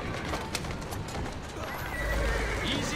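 Horse whinnying in Assassin's Creed Syndicate, a single clear neigh rising over steady game ambience and clip-clopping hooves, fairly close and loud, with a faint voice in the background.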